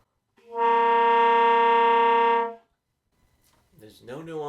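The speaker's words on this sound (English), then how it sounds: "I'll play an extremely common multiphonic, which is a low C with 4 off" A saxophone multiphonic on low C with the fourth finger off, played flat: one loud, steady, buzzing chord-like tone held for about two seconds, then silence before a voice starts talking.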